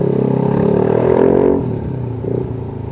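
A Yamaha NMAX 155 scooter fitted with an Akrapović full exhaust idles with a deep, throbbing burble that swells into a short rev, then drops back to a lower idle.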